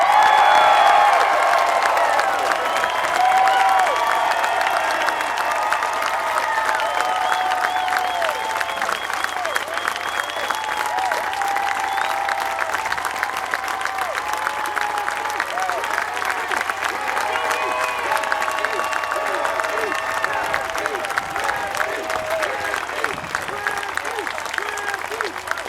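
A large crowd at the Baseball Hall of Fame applauds and cheers for Ken Griffey Jr., a steady, loud wash of clapping with scattered whoops that holds for the full stretch without letup.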